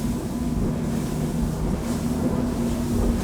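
Axopar motorboat accelerating hard to almost 40 knots, a loud continuous engine drone mixed with rushing water and wind buffeting the microphone.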